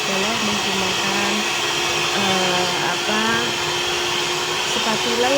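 An electric mixer beats burger bun dough with a steady, loud, continuous whir that holds without pause, a low churning thump underneath as the dough turns.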